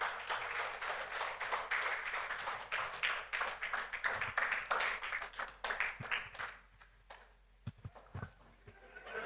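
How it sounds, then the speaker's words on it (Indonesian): An audience in a seminar session applauds, a dense patter of many hands clapping that thins out and fades into a few scattered claps near the end. "tepuk tangan"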